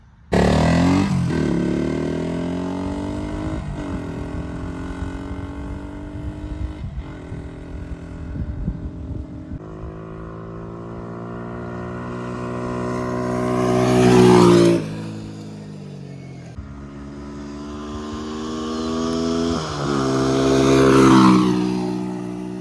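A 1977 Honda XL100 motorcycle engine runs close by, holding a steady idle with two rising revs that swell and drop back, unbroken for over twenty seconds with no talk.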